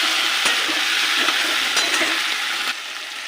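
Potatoes frying in a pan with ginger, tomato and green chilli paste being stirred in, a steady close sizzle broken by a few scraping strokes, dropping slightly quieter near the end.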